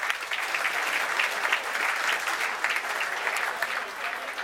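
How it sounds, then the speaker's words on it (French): A conference audience at a 2019 French corporate event applauds the technical teams, with dense, lively clapping that runs steadily throughout at moderate volume. "Applaudissez-les, s'il vous plaît."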